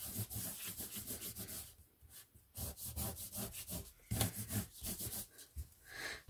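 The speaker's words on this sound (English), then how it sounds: "Now just to make that shine, just going to buff it up." Embossed card being buffed by hand to make it shine, giving close, rhythmic rubbing strokes in quick bursts with short pauses between passes.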